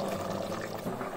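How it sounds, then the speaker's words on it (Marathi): Water is poured into cucumber dhondas batter in a kitchen, a close, continuous splashing pour that runs the whole moment without talk. "पाणी घाला."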